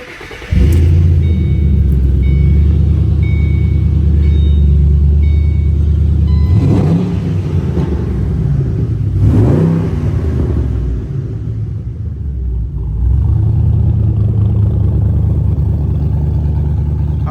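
A 2008 Ford Mustang Bullitt V8 cranks and fires into a loud, deep idle rumble close by, with two rising revs that swell and fall back before it settles into a steady burble.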